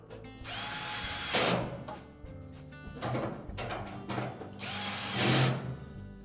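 A power drill drives a screw into the top of a drum support inside a Whirlpool dryer during a motor pulley repair, whirring in several bursts close by with pauses between them, with no talk.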